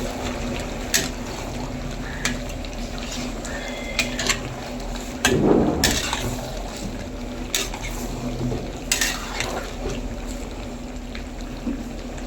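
Chicken fries in a pan at a roadside dhaba, giving a steady sizzle under clanks and scrapes of a metal spoon stirring against the pan, with a louder burst of stirring midway.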